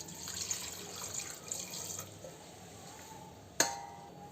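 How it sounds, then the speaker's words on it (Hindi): Water runs steadily into a cooking pot, a soft continuous splashing stream, followed by a sharp clink near the end. "वही में हम रख देबे पानी"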